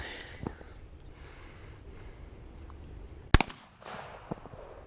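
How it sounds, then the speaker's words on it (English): A semi-automatic shotgun fires a single high brass shell outdoors, one sharp loud blast that cuts through quiet background noise before a brief rattle and low murmur. "if it'll cycle with this high brass that he's shooting out of it"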